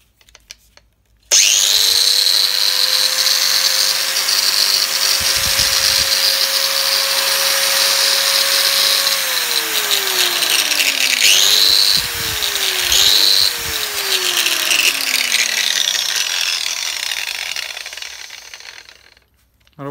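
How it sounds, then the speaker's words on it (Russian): A 125 mm Bosch angle grinder starts up and runs loud and steady close by, its motor whine dipping a few times under load or release before spinning down to silence. "Болгарка Bosch."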